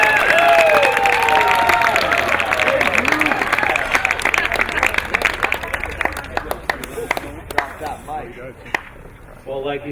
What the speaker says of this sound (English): Ladies and gentlemen, give a round of applause for the best man